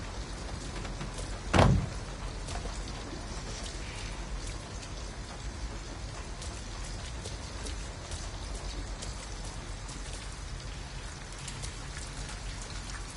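Steady rain falling and spattering on surfaces around an abandoned house in the video game Detroit Become Human, a dense continuous hiss with one sharp knock near the start.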